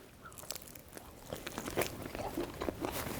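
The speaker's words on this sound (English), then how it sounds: "listen to the crunch on this" Crunchy bites and chewing into a fried chicken drumette, with crisp crackles at close range repeating over a few seconds and no talking.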